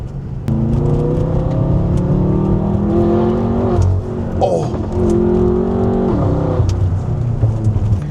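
A modified BMW M5 accelerates hard through canyon corners, its engine note climbing and dropping as it shifts and brakes, loud and close and continuous for several seconds, with no talking.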